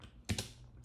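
A quick double tap of keys on a computer keyboard, faint and close, in an otherwise quiet room.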